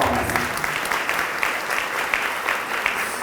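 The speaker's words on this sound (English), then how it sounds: "If you all can please give this young woman one more round of applause." Steady, close applause from a gala dinner audience honouring a young woman, even continuous clapping throughout with sharp individual claps standing out.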